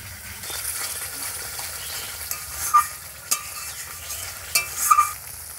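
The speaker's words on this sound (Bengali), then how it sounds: "আবারও নেড়ে চেড়ে নেব।" A pan of curry masala with sugar and sour yogurt being stirred, a soft steady sizzle of frying spices running throughout with a few light scraping clinks of the spoon against the pan.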